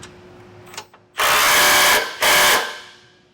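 A power tool drives a socket onto base plate bolts on a 2024 Ford Maverick in two loud, close whirring bursts, the first about a second long, the second shorter, after a few faint clicks.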